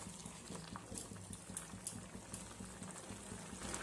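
A pot of vegetable curry made with bottle gourd greens, eggplant and ground coriander, fennel and poppy seed paste bubbles steadily, giving a faint, continuous burble of popping bubbles with no talk.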